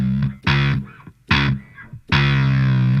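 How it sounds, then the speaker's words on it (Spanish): A distorted electric bass guitar in a rock song plays sustained heavy notes in three bursts separated by short gaps, loud and gritty, without vocals. "Bajo así, con distorsión."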